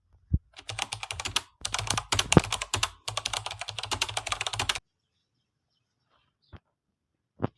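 Quick clattering keystrokes on a keyboard in several close bursts over about five seconds, then near silence broken by two faint isolated clicks.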